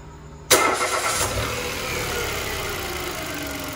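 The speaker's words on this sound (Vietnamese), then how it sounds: "Rồi anh khởi động máy nha." A car engine cranks and fires into life during a battery cranking test, a sharp start followed by a steady idle that settles and continues at moderate level, close by and without talk.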